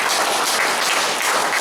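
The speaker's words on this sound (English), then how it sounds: "So let's start with a little clap." An audience at a Toastmasters meeting claps briefly, a dense burst of many hands clapping together.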